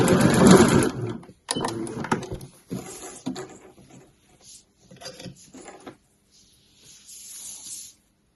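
A sewing machine back-stitching binding onto a mesh laundry bag, with bursts of close mechanical whirring that start loud and then come in shorter, fainter runs separated by pauses.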